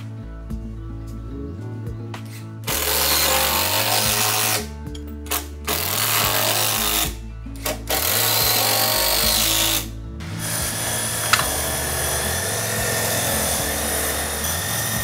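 A power drill secures a wooden deck joist, whining in repeated rising bursts with brief gaps, loud and close, then settling into a steadier mechanical hum.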